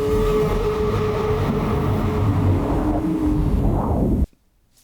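A horror sound effect built by processing a toilet flush: a dense, loud, rumbling roar that churns steadily for about four seconds, then cuts off abruptly into near silence.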